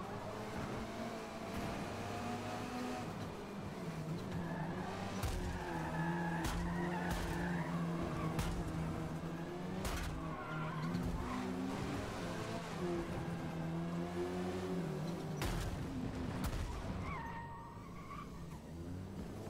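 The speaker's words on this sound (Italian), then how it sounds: "È qua che non dovrebbero slittare così tante le macchine." Racing cars in a video game skid repeatedly through the corners of a track, with sustained tire squeal and engine drone, loud and continuous throughout, fading slightly near the end.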